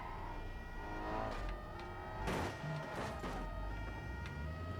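Police sirens wail in a BeamNG.drive chase, their steady tones riding over the rumble of a damaged car's engine and road noise, with a few sharp knocks and thuds partway through.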